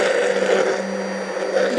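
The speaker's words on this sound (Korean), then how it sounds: "그래서 믹서기를 가지고 계란 노른자 하나에다가 100ml를 활용하면 됩니다" A blender runs continuously at a steady, loud motor whir with a high grinding hum, blending water and an egg yolk, no pauses and no voices.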